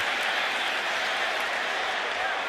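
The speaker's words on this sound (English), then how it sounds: "the Giants are applauding" Crowd at an NFL football game between the Chargers and the Giants, a steady broad roar of applause and cheering from a large stadium audience that holds at an even loudness throughout, with a commentator's voice faintly over it.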